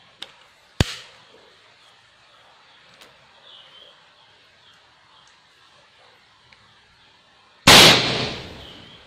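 Two sharp shots from a PCP air rifle: a short crack near the start, then a louder, fuller report near the end with a brief decay, over a quiet background.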